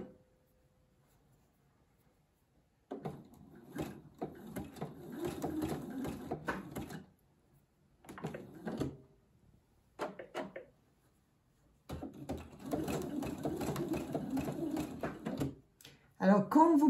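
A domestic sewing machine stitching a zigzag seam in fabric, running in several close bursts of rapid mechanical whirring separated by pauses, with a person speaking in between.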